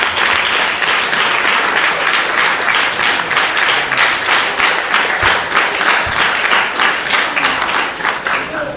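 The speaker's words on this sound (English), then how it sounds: "a big round of applause for His Holiness Romapad Swami and His Grace Chanting the Prabhu." A large gathering at a japa retreat breaks into a steady round of applause for Romapad Swami, with many hands clapping loudly and continuously, a faint murmur of voices underneath.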